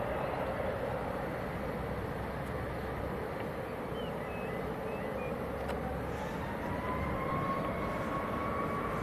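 A Ryanair airliner at Leeds Bradford Airport begins its takeoff roll, a broad, steady engine roar heard from a distance with a faint rising whine.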